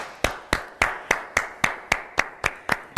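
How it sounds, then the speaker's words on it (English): Slow, evenly spaced claps, about eleven sharp strikes in three seconds, from an online graduation ceremony audience honouring performers; few hands, close and clear, with no voices. "let's give them a big round of applause"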